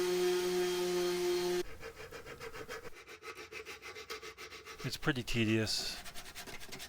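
Someone sands a router-carved wooden Grinch decoration with rapid, rhythmic rubbing strokes that scrape close by, and a voice speaks briefly over the sanding.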